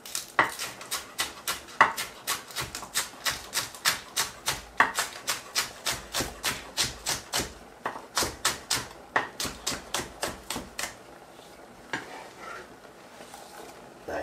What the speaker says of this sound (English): Now I have 2 stalks of spring onion right here, and I'm gonna simply cut up these and put it into it